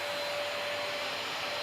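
A Bush handheld bagless stick vacuum cleaner runs with a steady, loud broadband whoosh and a constant high motor whine. There is no talking.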